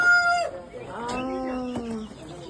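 Farm poultry including turkeys, Kadaknath chickens and guinea fowl call inside a two-storey shed, with a nearby rooster crow and scattered clucks and squawks at moderate volume.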